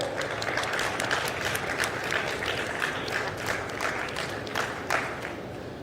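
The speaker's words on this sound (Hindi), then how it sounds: "तालियों से उनके स्वागत करें।" An audience claps steadily to welcome guests onto the stage at a hygiene campaign launch event in India, a dense, continuous wash of applause from a sizeable crowd, with no speech over it.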